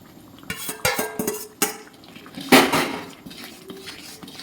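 Dal tadka with egg is stirred in a metal pot, with a series of close clinks and scrapes from a spoon against the pot, followed by a louder, longer scrape and softer clatter.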